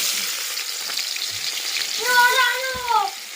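Onion and bay leaves fry in hot oil with a close, crackling sizzle and some stirring, and a brief whining tone rises over it near the end.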